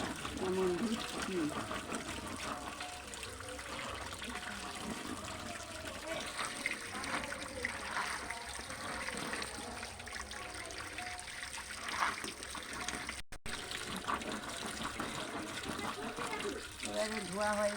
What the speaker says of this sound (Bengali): এবারে আনাজটা কাটা হয়ে গেছে, এবারে ধুয়ে নিচ্ছি।